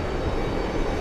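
An airplane at JFK airport gives off a steady, broadband engine roar, continuous and moderately loud, heard alone without talk.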